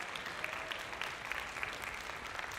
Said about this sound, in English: Give him a big thank you and round of applause.